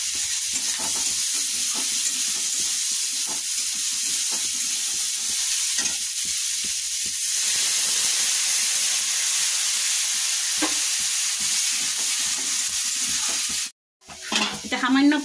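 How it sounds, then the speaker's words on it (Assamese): Stirring food as it fries in a pan with mashed chilli and salt, a steady loud sizzle under repeated scraping strokes, then a sharp surge of hissing near the end as a little water goes in. "এতিয়া লাৰি চাৰি মই অলপ পানী দি"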